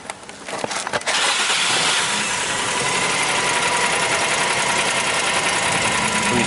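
A Nissan Maxima with a misfire fault cranks briefly and catches, then settles into a loud, steady idle with a constant close engine drone and no talking.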